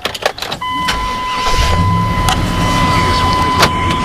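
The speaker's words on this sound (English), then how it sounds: "And we'll go ahead and crank it." A one-owner Chevrolet Suburban 3/4-ton 4x4 with a 454 7.4-liter V8 and 85,000 miles cranks briefly, then settles into a steady, fairly loud idle, with a continuous chime tone sounding over the engine.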